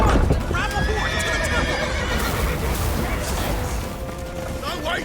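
Horses neigh and whinny in The Witcher game, with clip-clop hooves under a busy, loud mix, while people shout over the action.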